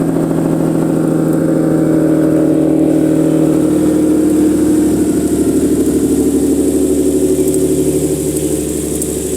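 A loud car engine with headers, running on one resonator, idles steadily nearby, its exhaust giving a deep, rumbling drone that holds at a constant level throughout.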